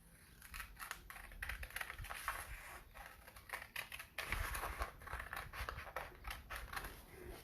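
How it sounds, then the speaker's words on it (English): Scissors cutting a paper stencil for a Mother's Day card, a quick series of close, crisp snips and paper rustles in an uneven rhythm, quiet and up close with no talk. "For this one, I'm going to use scissors."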